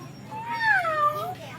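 A cat gives one clear, drawn-out meow with a rising then falling pitch, close by, while someone talks over the background.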